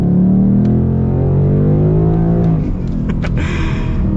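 A 2022 Ford Mustang GT Performance Package with a 5-liter V8 and 10-speed gearbox accelerates hard. The loud, close engine note climbs steadily in pitch, then drops and rebuilds as the car shifts.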